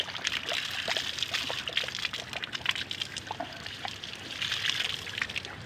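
Spring water trickles and splashes continuously nearby, with bright dripping and pouring sounds during a bike outing.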